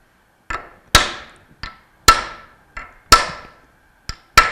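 Hammer blows drive a bearing onto a steel shaft during repair of a Bell & Gossett Series 1510 bearing assembly: seven sharp metallic strikes in an uneven rhythm, alternating lighter and heavier hits, close and loud with short ringing decays.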